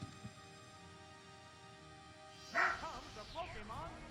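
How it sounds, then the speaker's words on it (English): A newly adopted dog barks and yips at something outside, a sudden loud burst followed by a few softer whimpering yelps, heard after a stretch of quiet background sound. "my new dog is barking at something it saw outside"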